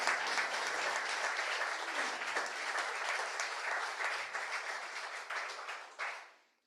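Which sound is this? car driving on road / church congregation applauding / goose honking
church congregation applauding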